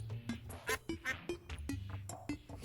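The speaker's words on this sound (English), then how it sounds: "We have chickens." Chickens in the game Terraria with the Tremor mod give a quick run of short, clucking, quack-like calls in an uneven rhythm, fairly close and faint, with no talking.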